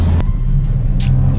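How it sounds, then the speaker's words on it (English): A Mustang revs as it pulls up to a busy car meet, giving a steady, loud, low engine rumble close by with a faint higher whine running over it. "The Mustang just revving."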